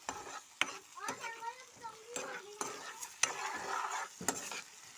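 Eggs stirred in a hot frying pan, with steady sizzling under repeated scraping strokes of a utensil against the pan, close and moderately loud.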